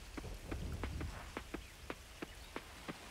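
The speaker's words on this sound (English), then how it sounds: "I love the storms in this game." Rain in the farming game Coral Island, a faint steady wash with a regular series of distinct drip-like taps, and a low rumble near the start.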